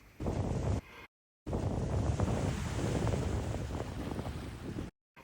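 Steady, loud rush of ocean surf and wind on the Cape Cod shoreline near Falmouth, between salt marsh and sea, broken by brief cuts to silence.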